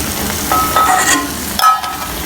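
Rava kachchayam, a semolina fritter, sizzles in hot oil in a pan over a lowered flame. The frying is steady and close, with a few light clinks and stirring sounds.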